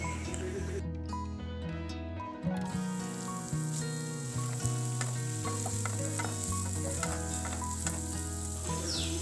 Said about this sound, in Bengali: এখন ওই তেলে দিয়ে দিচ্ছি কুচিয়ে রাখা পেঁয়াজ। পেঁয়াজ প্রথমে বেরেস্তা করে নিতে হবে।